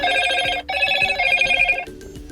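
A Motorola Moto G200 phone, running Android 11, sounds a repeating electronic ringing alert in steady bright pulses that cuts off briefly, returns, then stops near the end, with no talking.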